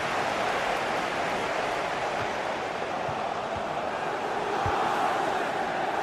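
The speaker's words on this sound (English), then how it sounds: "The crowd certainly think so. Just listen to them." Roaring stadium crowd in a racing video game, a dense, steady wash of cheering and noise that holds at a constant high level throughout, with a few low thumps underneath.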